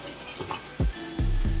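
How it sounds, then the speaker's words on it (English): Stuffed salmon fries in butter in a pan, a steady close sizzle with a couple of sharp scrapes as a spatula moves the fish, and no talking. "Make sure that salmon is being cooked all the way through."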